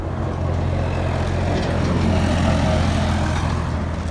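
At night, a steady stream of trucks and cars rolls past on a busy road during the wheat harvest season, with a loud, continuous low engine drone and tire roar from vehicles close by.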